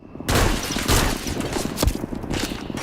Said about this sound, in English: I wonder if the pistol will reach that far.